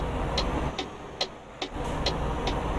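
A heavy truck in Euro Truck Simulator 2 pulls away in a right-hand drive cab, its engine a steady low rumble throughout while a clicking indicator ticks at an even pace roughly every 0.4 seconds.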